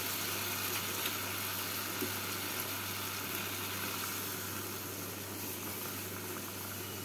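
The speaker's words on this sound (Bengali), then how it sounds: "এবার এর মধ্যে দুধটা দিয়ে দেব।" Milk poured into a pan of ridge gourd and potato frying with spices, a steady close boiling sizzle and hiss running unbroken throughout, with no talk over it.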